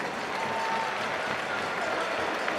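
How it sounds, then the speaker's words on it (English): A crowd applauds student achievers in a hockey arena before an RPI vs. Cornell men's game, a faint, steady wash of distant clapping and crowd noise with no clear voices. "Let's have a nice round of applause for all of our student achievers."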